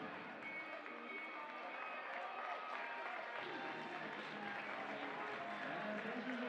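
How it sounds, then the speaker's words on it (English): An indoor crowd banging on the glass around a 200-meter banked track during a high school distance medley relay race, a continuous dense rumble of pounding and cheering with a commentator talking over it. "The crowd here, as they always do, ringing the glass along the outside of this 200-meter banked oval"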